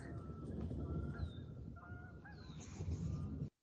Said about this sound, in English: the geese are taking off.